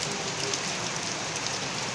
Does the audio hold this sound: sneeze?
no